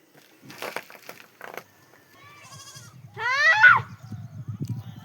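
Tied-up goats in a village give a loud, close, wavering bleat after some clattering and rustling, followed by a low rhythmic munching or shuffling.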